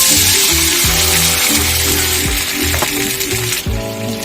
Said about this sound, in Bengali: এবার জলটা দিয়ে দিলাম